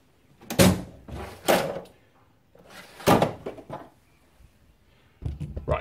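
A drawer opens and closes in a home garage workshop as a copper hammer is fetched, giving a few separate hollow thunks and slides spaced out over several seconds, close to the microphone, with no talking.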